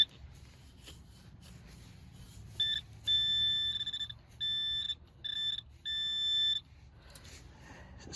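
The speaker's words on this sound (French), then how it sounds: "Je vais essayer d'y aller avec mon petit détecteur à main" Handheld pinpointer metal detector sounding a series of short, sharp electronic beeps in bursts of varying length, close and clear over a quiet outdoor background.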